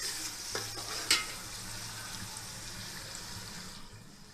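A spoon stirs chili powder into soaked rice in a pan for coconut milk rice, making a soft scraping, sizzling wash with one clink near the start, close but quiet and steady, with no talking.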